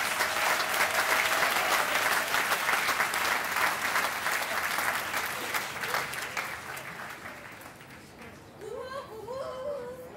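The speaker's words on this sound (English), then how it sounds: "Let's have a big round of applause for all the doctoral candidates." At a graduate commencement ceremony, a large crowd applauds loudly and steadily for doctoral candidates, the clapping gradually fading, with a few voices heard near the end.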